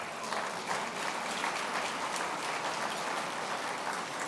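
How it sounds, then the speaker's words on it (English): Steady, fairly quiet applause from an audience of diplomats and dignitaries welcoming visiting mayors, a continuous even patter of many hands with no voices over it. "Now you can applaud."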